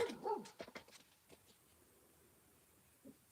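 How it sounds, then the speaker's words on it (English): Dogs bark outdoors in a short burst of several sharp barks near the start, then fall quiet apart from one faint bark near the end. "No, they're just barking. Sorry for them barking."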